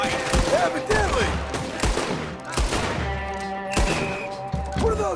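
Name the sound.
gunfire in the video game Red Dead Redemption 2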